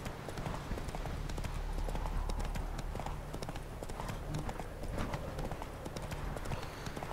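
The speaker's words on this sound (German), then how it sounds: "Du bist schon ein gutes, treues Pferd." Steady hoof clip-clops of a horse walking in the video game The Witcher 3, repeating at an even pace over a low continuous background hum, with no voices.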